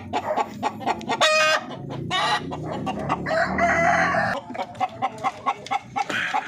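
Chickens in a coop clucking and squawking up close, with a rooster crowing loudly partway through, among other fowl including ducks.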